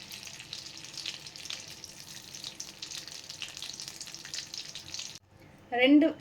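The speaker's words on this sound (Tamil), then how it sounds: "இதில் பட்டர் கூடவே கொஞ்சம் எண்ணெய் சேர்த்துக்கலாம்." Butter and oil sizzling in a pan for butter chicken masala, a steady, fairly quiet crackling hiss that cuts off abruptly, followed by a brief louder tonal sound.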